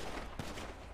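A single sharp shotgun blast goes off in a video game, a brief loud crack standing out from a dense background of game noise.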